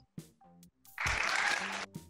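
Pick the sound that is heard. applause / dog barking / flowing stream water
applause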